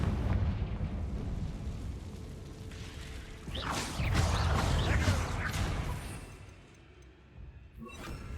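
A fiery Confringo spell blast in a video game, a loud burst with crackling debris swelling over a few seconds amid rumbling game sounds, then fading.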